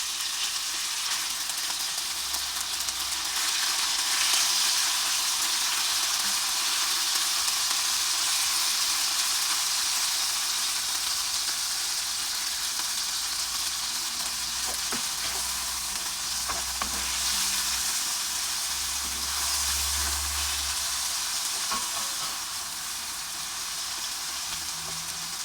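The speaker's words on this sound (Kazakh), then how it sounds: "Тағымызды салып, жақсылап қуырамыз." Chicken fillet fries in a pan with a constant dense sizzle and occasional soft scraping stirs, close up and steady throughout with no talk.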